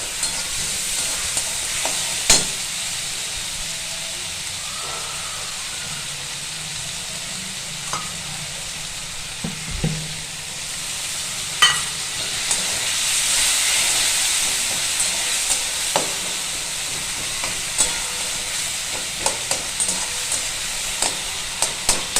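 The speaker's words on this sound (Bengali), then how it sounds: "লঙ্কা আদা জিরে পেস্ট। ভেজে নেবো একটু ভালো করে।" A paste of green chilli, ginger and cumin fries in oil in a home kitchen, giving a loud, continuous hissing sizzle with scattered clicks and scrapes of stirring over roughly twenty seconds.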